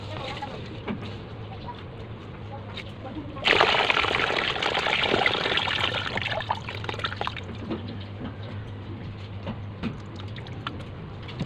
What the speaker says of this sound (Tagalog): lalagyan lang natin siya ng tubig mineral